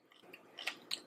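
Bean sprouts crunched at a Korean restaurant meal of spicy squid, grilled saury and jjamppong, two or three soft, close, crisp bites in a quiet moment.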